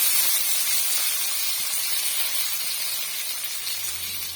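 Onions, green chilies, curry leaves and popped mustard seeds fry in a pan, giving a soft, steady hiss that fades slightly over a few seconds, with no talking.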